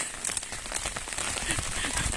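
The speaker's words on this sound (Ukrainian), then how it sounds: "Таке дощара в нас." Heavy rain pouring down outdoors and pattering steadily on surfaces and a window, a dense, close hiss with brief bits of speech over it.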